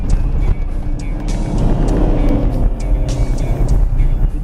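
Mitsubishi Pajero Sport accelerating in first gear, a loud steady engine drone with low rumble and road noise heard from inside the vehicle, continuous with no talking.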